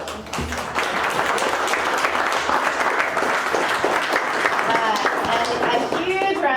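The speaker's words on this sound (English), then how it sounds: "And a huge round of applause for Brandon and Lauren and Sebastian" A panel audience breaks into applause, dense, sustained clapping from a sizable crowd in an event space, with a few voices and cheers mixed in toward the end.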